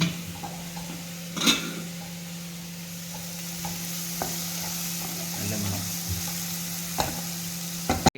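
A banana fries quietly in ghee, after cashews and raisins were fried in it, with a soft continuous sizzle, a steady low hum and occasional clinks of a spoon against the pan.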